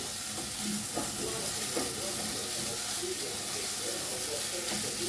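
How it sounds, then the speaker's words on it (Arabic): Washed, drained Egyptian rice being stirred and sautéed with an onion mixture in a hot pan, giving a steady sizzle and frying hiss with soft scraping stirs throughout. "هنزل بالرز اشوحه مع الخلطه الجميله دي"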